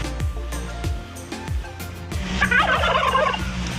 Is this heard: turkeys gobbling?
yes